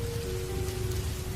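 Steady rain falling at night, a dense even patter of drops on surfaces with no breaks, fairly soft and alone.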